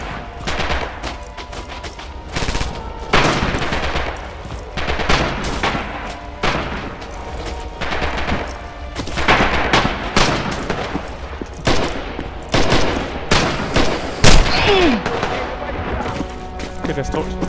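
Rapid bursts of gunfire in the video game Red Orchestra 2 crack repeatedly, loud and close, with irregular volleys and occasional booms under speech.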